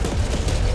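Rapid bursts of spread gun fire from the video game TetriSiege crackle in a quick, loud, dense volley lasting under a second, with no talking.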